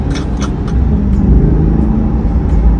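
A 2022 Chevrolet Corvette Z51 V8 accelerating from inside the cabin, a loud low rumble building steadily, with a few brief clicks or taps early on.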